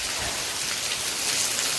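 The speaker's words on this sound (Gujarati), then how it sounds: "વરસાદ આવવા માંડ્યો, શરૂ થઈ ગયું છે" Steady rain falls in a village setting, a dense, even hiss of drops on surfaces that holds constant and swells slightly toward the end, with no voices.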